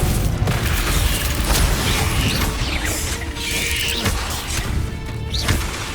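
Spell blasts and explosions in Hogwarts Legacy, a dense continuous barrage of booms, crackles and whooshing magic effects, loud and layered with no pause.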